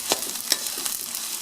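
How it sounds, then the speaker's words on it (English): Cabbage sizzles gently in a pan for about a second and a half, with a couple of sharp scraping stirs over the soft frying hiss, quiet and close, no voices. "I will stir them around a little bit and let them cook"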